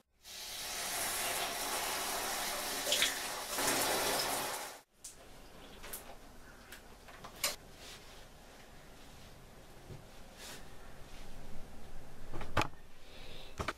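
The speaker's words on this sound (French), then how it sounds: "Bonne petite douche." A running shower gives a loud, steady hiss of spraying water for about five seconds, then cuts off, leaving quieter scattered drips and small bathroom sounds.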